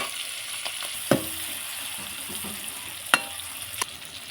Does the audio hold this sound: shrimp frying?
yes